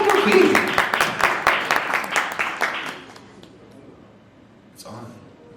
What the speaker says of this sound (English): please give a big round of applause as we welcome her to stage